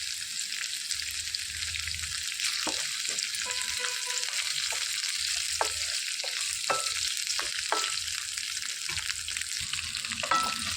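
Fenugreek and cumin seeds fry in a pan for a coconut and tender tamarind leaf chutney, a continuous soft hiss with scattered crackles and small pops, plus a few light clinks of stirring.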